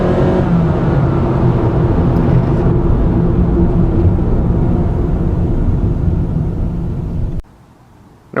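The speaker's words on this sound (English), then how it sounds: "And with the droning of the CVT, it doesn't get any better." A 2015 Honda Fit EX-L five-door engine and CVT drone loudly and steadily while driving, a constant close whirring hum that cuts off abruptly near the end.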